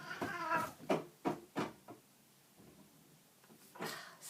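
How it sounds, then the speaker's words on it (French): A pet cat meows several times in a row, short close calls spaced about a third of a second apart, with a softer meow near the end. "Oh, ça, c'est mon chat."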